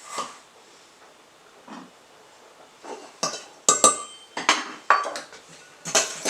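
Softened butter and sugar are mixed in a bowl for lemon bread, heard as irregular clinks and scrapes of a utensil against the bowl that grow louder and busier toward the end.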